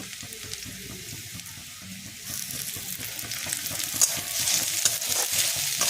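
Ginger paste frying with browned onions in a pan while making vegetable chops, a close continuous sizzle with repeated spatula scrapes and stirring, growing louder and hissier partway through.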